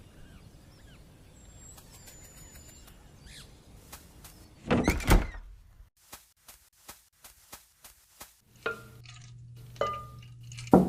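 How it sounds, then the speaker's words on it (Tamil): A wooden door is knocked on in a series of close, evenly spaced raps. They follow a louder thud and quieter rustling, in a calm story setting, with no talking. "மீண்டும் கதவு தட்டப்பட்டது"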